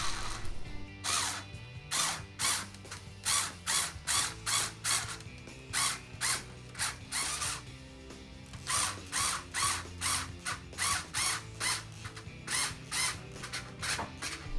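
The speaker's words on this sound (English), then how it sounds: "as you screw everything in, it won't take off the paint on those freshly painted screw heads" A power drill whirs in short repeated bursts with a ratcheting clatter, driving freshly painted screws one after another into a sliding glass door insert at close range.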